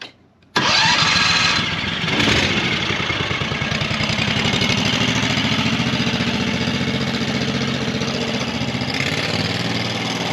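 A Predator 670 engine swapped into a golf cart cranks and catches after a brief quiet moment, then settles into a loud, steady, close-up idle with a rough mid-pitched rumble.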